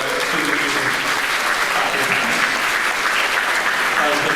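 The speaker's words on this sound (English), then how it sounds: "I hope we give a round of applause to all of you guys," An audience at a high school band concert applauds the parents, with loud, dense, sustained clapping filling the hall without a break.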